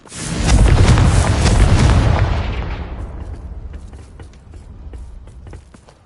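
A Confringo blasting curse in Hogwarts Legacy erupts in a loud, booming explosion that swells over the first two seconds, then rumbles and crackles away into scattered debris-like clicks and a lingering low tail.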